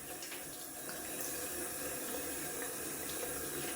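A bathroom tap runs steadily into a sink, a close, continuous splashing hiss of water with no voices.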